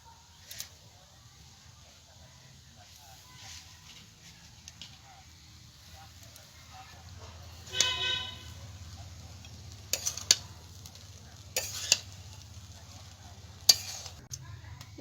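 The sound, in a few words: chira pulao sizzling in pan after ghee sprinkled on top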